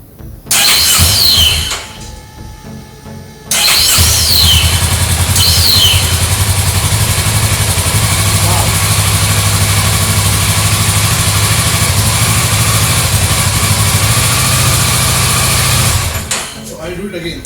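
A Kawasaki Ninja 650 motorcycle's starter cranks in short bursts and then settles into a long, loud, steady engine run close by before cutting off. A voice is heard briefly near the start.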